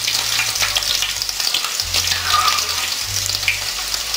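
Cauliflower pieces for Andhra-style Gobi 65 frying in hot oil, giving a loud, steady, close sizzle with a low hum underneath and no talking.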